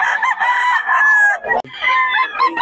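A gamefowl rooster of the sweater breed crows loudly and close, a sustained harmonic call broken by a brief pause before a second crow.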